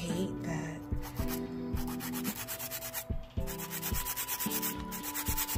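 A nail file scrapes back and forth over a PolyGel nail in quick, close, rhythmic strokes, a dry rasping rub that keeps going without pause and without any talking.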